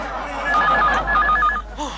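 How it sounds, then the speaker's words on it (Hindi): A telephone rings in two short electronic trill bursts, moderately loud, over a faint room background. "घंटी टेलीफोन ने बजाई है"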